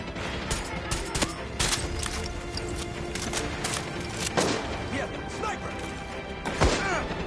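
Sniper rifle shots in Far Cry 6 ring out as several sharp cracks spread across a busy battle scene, sitting at moderate loudness among other gunfire and clatter.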